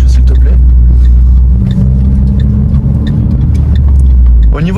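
A Renault Clio 4 RS Trophy on a road test gives a loud, constant engine drone and road rumble from inside the car, with people talking throughout.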